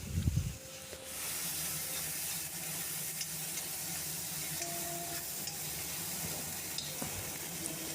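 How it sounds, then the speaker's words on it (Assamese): Sesame paste frying in oil left over from frying small fish gives a steady close sizzle with occasional stirring scrapes, continuous throughout after a brief thump at the start. "এতিয়া তিলখিনি ভালদৰে ভাজি ল'ম।"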